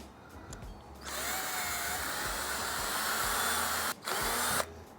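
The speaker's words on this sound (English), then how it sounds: "Now I'm going to move on to widening the hole with the stepped drill bit" A stepped drill bit widens a hole in a stainless steel pressure fermenter, a loud steady motor whine with grinding bite that stops briefly near the end and then starts again.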